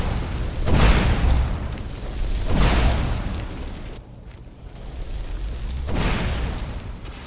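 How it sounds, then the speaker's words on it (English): In Skyrim, a flame trap erupts three times in a row, each a loud, rushing whoosh of fire that swells and dies away, separated by brief, quieter gaps. "Well, it's a fire trap."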